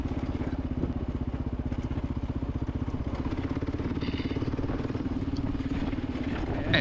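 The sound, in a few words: Kawasaki KLR motorcycle engine at highway speed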